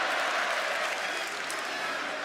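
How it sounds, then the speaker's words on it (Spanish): Crowd applause at a live professional wrestling event, a broad steady wash of clapping that fills the whole moment without pause. "Punk aplaudiendo desde las afueras"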